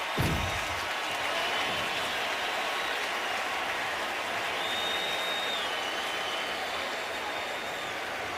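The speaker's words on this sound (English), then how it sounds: "And this reaction from the crowd, he's in tremendous pain" Stadium crowd at an NFL game between the Redskins and Cowboys at the Cowboys' home stadium, applauding as an injured quarterback gets back to his feet; a steady, broad roar of applause and cheering fills the whole stretch, distant and sustained.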